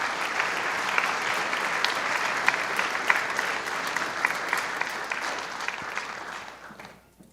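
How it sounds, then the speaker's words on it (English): A concert audience at a high school jazz and symphonic band performance gives sustained applause for the festival musicians, a dense steady wash of clapping that fades away at the end. "another round of applause for all of our festival musicians"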